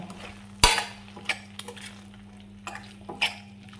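A spoon stirs chopped boiled egg through a thick tomato masala in a pan, giving a few scraping knocks against the metal and a soft, low sizzle beneath.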